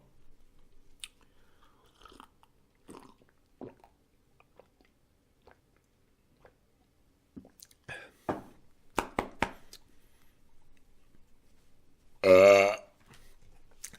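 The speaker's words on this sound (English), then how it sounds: "A loud belch echoes through the room." A loud, drawn-out belch from a character in the PC horror game Enclosure, set in Greenland, rises near the end after scattered soft chewing and small crunchy clicks in a quiet room.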